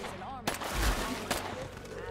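Gunfire aimed at soldiers in State of Decay 2 cracks out in a couple of sharp shots over a dense background of game noise, with a voice talking alongside.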